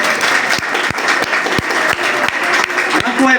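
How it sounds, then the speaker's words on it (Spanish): Students clap in a classroom, a dense burst of applause with sharp individual claps standing out at a quick uneven rhythm, loud and close, lasting throughout. "Un aplauso, por favor."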